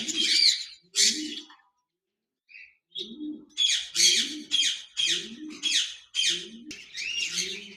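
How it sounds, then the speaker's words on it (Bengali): A pair of caged budgerigars, a lutino red-eye male and an albino red-eye female, give bursts of bright chirps and squawky chatter in short repeated phrases, with one brief quiet gap, loud and close. "এখানে দেখতে পাচ্ছেন একজোড়া বাজরিকার পাখি রয়েছে"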